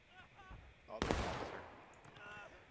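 A single heavy boom of Confederate artillery in a multiplayer Civil War video game bursts out about a second in, its rumble slowly fading under faint battlefield noise.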